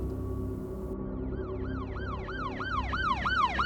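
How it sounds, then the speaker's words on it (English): A police cruiser siren wails in a steady repeating rise-and-fall, starting faint and growing louder as it approaches, with no voices over it. "The intruder ran into the woods when it saw and heard the police cruiser pull up."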